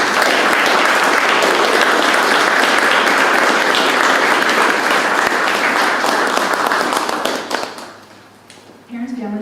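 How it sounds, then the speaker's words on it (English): Loud, sustained applause from a graduation audience for the Class of 2021 seniors, dense clapping filling the hall for about eight seconds before thinning out near the end. "A round of applause for them,"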